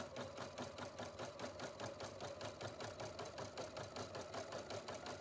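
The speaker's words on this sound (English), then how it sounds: "Select lowercase letters and embroider the remaining letters H, O, C, O, L, A, T, E," A Husqvarna Viking Platinum Plus sewing machine stitching embroidered letters, with a steady, fast mechanical whir and an even needle rhythm that runs continuously with no talking.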